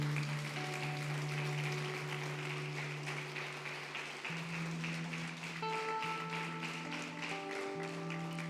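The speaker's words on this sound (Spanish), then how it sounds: "Denle un aplauso a su Señor" A church congregation applauds after a sermon, with scattered clapping held under sustained organ or keyboard chords, fairly faint and steady throughout.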